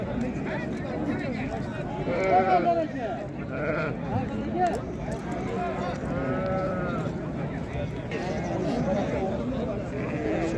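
Lambs bleat repeatedly at a busy livestock market, their varied cries overlapping near and far amid a crowd of people talking and bargaining.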